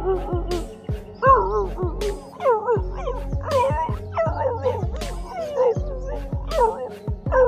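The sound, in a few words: man imitating dog barking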